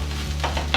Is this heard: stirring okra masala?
yes